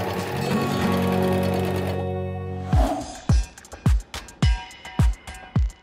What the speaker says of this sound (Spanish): Al terminar, continúa cosiendo para que se forme la cadeneta